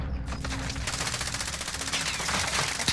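Rapid bursts of automatic gunfire in the Call of Duty: Modern Warfare video game, dense and continuous throughout, with dull impacts layered into the steady rattle.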